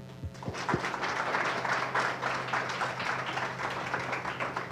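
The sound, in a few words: audience applause for speaker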